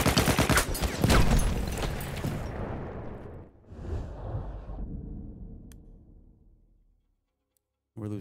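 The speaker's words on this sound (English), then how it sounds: "Some long-range machine gunners." Dense machine gun fire and explosions roar in a Battlefield 1 match, a loud continuous burst that tapers off into fading rumble and near silence, with a brief sharp sound at the end.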